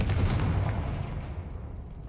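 A Confringo blasting spell explodes in the Hogwarts Legacy video game, a single loud booming burst that rolls off into a fading rumble over about two seconds.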